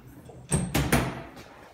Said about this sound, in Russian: Дверь открыта.